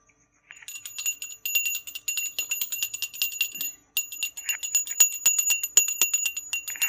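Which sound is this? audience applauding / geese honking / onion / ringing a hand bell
ringing a hand bell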